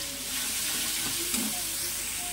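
Spices with turmeric powder sizzle in hot oil in a pan. The frying makes a soft, steady hiss with a brief stirring sound, and no one talks.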